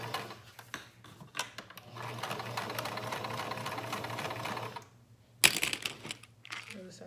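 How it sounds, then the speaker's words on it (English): A sewing machine running a straight stitch, first backstitching and then sewing forward, with a steady whirring hum lasting several seconds, a brief pause, then a sharp clack and a short second run. The sound is close and faint. "first you're gonna back stitch, then you're gonna stitch forward."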